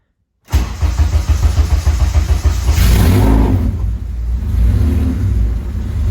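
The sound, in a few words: K-swapped Honda Civic race car engine starting and running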